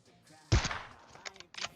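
A sniper rifle fires in PUBG Mobile, a sharp, loud single shot cracking out midway, followed by fainter, shorter reports a moment later.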